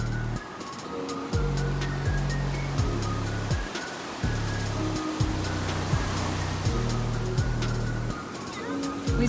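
Ocean surf rolls onto a California beach in a continuous washing roar, heard beneath a prominent stepped musical bass line throughout.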